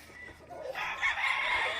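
Chickens at a gamefarm in San Jose, San Isidro, Leyte cluck nearby, then a rooster lets out a short crow, fairly close and moderately loud.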